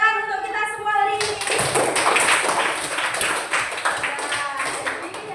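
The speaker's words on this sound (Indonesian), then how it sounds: "Tepuk tangan untuk kita semua hari ini." A classroom full of people breaks into steady clapping after a short spoken line in Indonesian, the applause continuing with scattered louder claps.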